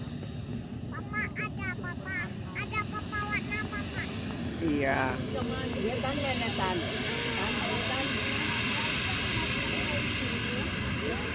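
Nam Air Boeing 737-500 jet landing at Muara Bungo airport in Jambi, a broad distant engine roar with wind noise, while people talk and birds chirp nearby.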